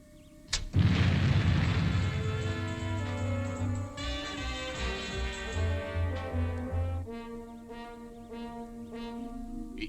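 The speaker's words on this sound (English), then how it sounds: "Fire retros, Robert." Spacecraft retro rockets on Fireball XL5 fire with a sudden blast, then a long droning roar with layered tonal hums that shifts and slowly fades.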